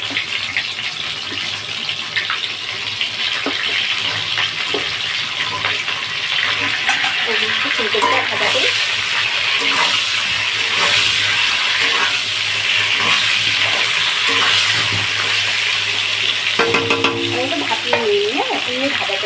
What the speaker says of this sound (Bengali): তেল কিন্তু গরম হয়ে গেছে আর আমি কই মাছ কটা সব কটা ভেজে নিয়েছি হ্যাঁ এবার দিয়ে দেবো ফুলকপিটা ভাজতে